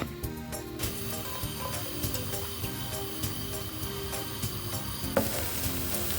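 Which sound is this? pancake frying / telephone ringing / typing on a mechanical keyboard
pancake frying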